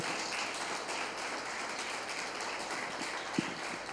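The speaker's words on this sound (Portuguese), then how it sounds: "Vamos aplaudir o Senhor" A church congregation at a worship service claps steadily in a faint, even wash of applause heard from a distance, with one sharper knock near the end.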